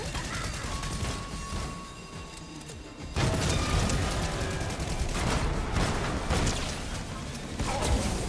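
Gunfire and crashing impacts in a video game firefight (Fortnite Chapter 6 Season 2), dense and continuous, louder after the first few seconds, with speech over it.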